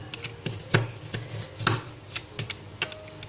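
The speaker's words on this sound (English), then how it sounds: "we must always use a very sharp knife to cut it" A sharp knife cutting thermocol and cardboard, with a series of crisp, irregular scoring and snapping clicks, close by and fairly quiet, spaced apart with short pauses between strokes.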